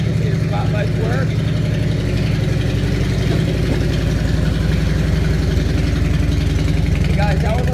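A 1998 Harley-Davidson Electra Glide Classic runs loud and close after a cold start, its deep, lumpy V-twin idle rising and falling as the throttle is blipped, with faint voices underneath.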